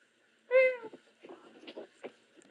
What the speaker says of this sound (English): It was cat.